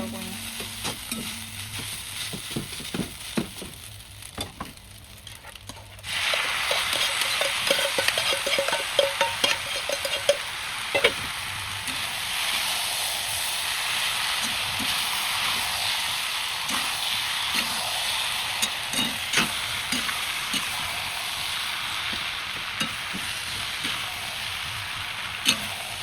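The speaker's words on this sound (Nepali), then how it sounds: "हाम्रो चाउमिन भुट्यो है मजाले।" Chowmein with potato is stir-fried in a pan in a home kitchen. Quiet stirring clicks are followed by a sudden loud, steady sizzle with repeated spatula scrapes and taps, and there is no talking.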